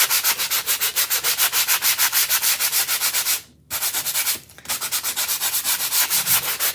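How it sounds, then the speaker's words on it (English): A foam sanding block rubs back and forth over a chalk sign in quick, regular strokes, close and loud, pausing twice briefly before resuming the rhythmic scraping. "I'm going to take a foam or a block here, sanding block."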